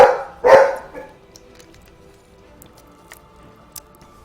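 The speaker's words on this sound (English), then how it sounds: "Dogs barking at nothing. Can't really stop that." Dog barking in the background of a card game stream, a couple of loud close barks at the start followed by quieter household noise and faint clicks.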